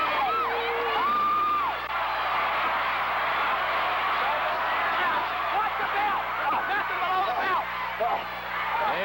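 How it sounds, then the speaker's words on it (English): A packed wrestling arena crowd roars without a break, loud cheering with high whoops and yells rising over the dense babble of thousands of voices. "Look at this crowd, listen to them."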